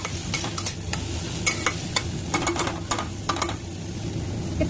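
Potatoes cut small and cooked in a spice masala sizzle steadily in a pan, with repeated scraping stir strokes from a spoon coming through close up and no talking.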